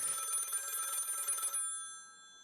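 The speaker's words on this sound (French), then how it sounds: "ton téléphone sonne." A telephone rings with a bright electronic trill for about a second and a half, then stops and leaves a faint lingering tone, fairly quiet and heard alone.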